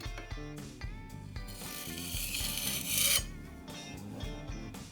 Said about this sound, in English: Now just to fill the holes and the cracks.